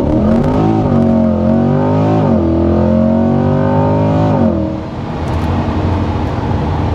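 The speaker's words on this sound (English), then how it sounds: "now we're going to pull out and we're ready to do launch control" A C8 Corvette on launch control in sport mode roars loudly and close, its engine note climbing steadily through the revs before a brief dip and a rougher continued pull, with no talking.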